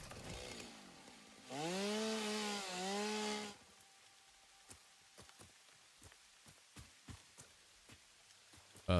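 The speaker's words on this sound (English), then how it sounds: "Where is my chainsaw?" A chainsaw in the video game Satisfactory revs loudly for about two seconds while cutting down a tree, then gives way to a series of sharp clicks and taps.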